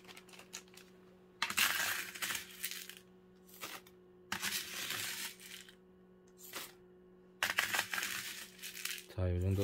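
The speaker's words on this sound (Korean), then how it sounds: "일단은 하이드로볼을 조금 채워볼게요" Hydroballs, clay pebbles spooned into a lucky bamboo plant pot, rattling and clattering in several bursts of pouring with short pauses between, close by.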